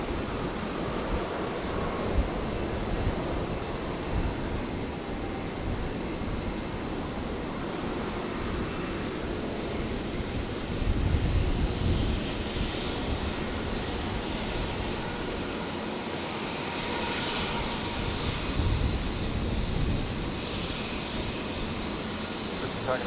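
A Singapore Airlines A350-900 touches down on runway 19 left at Brisbane Airport on a Friday night, giving a sustained, broad jet roar from a distance with gentle swells in loudness.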